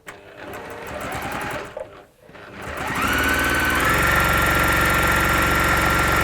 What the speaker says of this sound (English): I'm going to now sew down both sides of this.